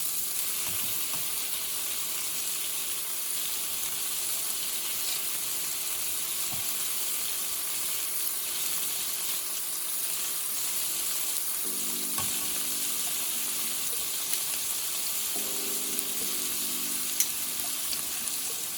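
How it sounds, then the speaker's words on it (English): Meatballs searing in their own rendered beef fat in a pan, a steady close sizzle and spatter running continuously with a few brief clinks and shifts. "Very nice sear on the meatballs."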